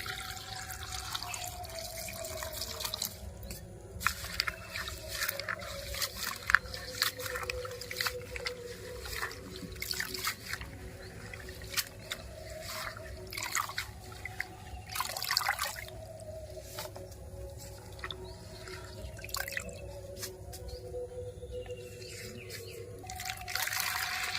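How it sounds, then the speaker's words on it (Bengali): Neem leaves being washed by hand in a basin of water, with steady sloshing, trickling and dripping throughout, close and moderately loud, no voices. "নিম পাতায় অনেক নোংরা থাকে আমি দুই থেকে তিনবার জল পাল্টে পাল্টে ভালো করে ধুয়ে নেব"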